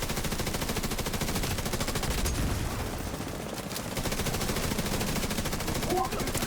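Video game turrets firing nonstop, a dense, loud stream of rapid automatic gunfire that runs the whole time with no break, close and harsh.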